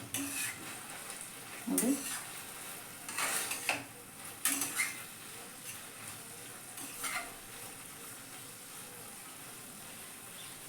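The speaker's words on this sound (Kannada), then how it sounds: "ಇದನ್ನು ಚೆನ್ನಾಗಿ ಮಿಕ್ಸ್ ಮಾಡಿ, ಸ್ವಲ್ಪ ಸ್ಲೋ ಆಗಿ ಮಿಕ್ಸ್ ಮಾಡಿ" Baby corn Manchurian being slowly stirred in a frying pan: soft scraping and clinks of a spoon against the pan over a low sizzle, with a few louder strokes near the start and one brief spoken word.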